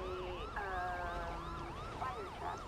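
An emergency vehicle siren in Grand Theft Auto V wails in fast repeating sweeps, steady and fairly faint, with no talking.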